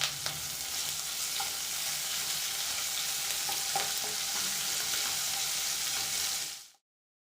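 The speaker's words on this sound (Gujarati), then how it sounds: "એક ટીસ્પૂન લીલા મરચાં આદુ લસણની પેસ્ટ ઉમેરી અડધો મિનિટ સાંતળી લેવી" Cumin seeds, asafoetida, curry leaves and green chili-ginger-garlic paste sizzle steadily in hot oil, a close, continuous crackling fry with faint stirring, with no talk, cutting off abruptly near the end.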